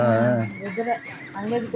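A horse neighs in a film scene, a loud, shaky whinny at the start that fades into shorter whinnying calls, with a voice talking over part of it.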